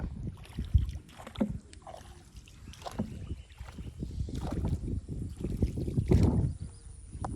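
Oars splash and knock irregularly as a small boat is rowed through water, with low rumbling wind on the microphone.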